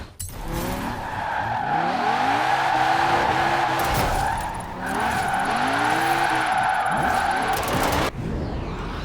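A Porsche 928 GTS drifts in the Forza Horizon 4 racing game, its engine droning loudly while the tires squeal continuously through long slides, with a brief dip in the middle before the skid resumes.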